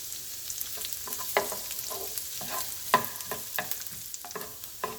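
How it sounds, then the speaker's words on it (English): Chopped onion sautes in a single pan, giving a soft, steady sizzle with repeated scraping stirs at irregular intervals. The stirring is close and moderately loud, and no one talks. "I'm going to saute the onion until the onions are softened and translucent."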